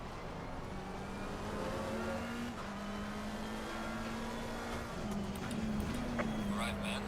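Race cars in a racing video game drone steadily with a constant engine hum and whine, a car sweeping past near the end, under continuous talking.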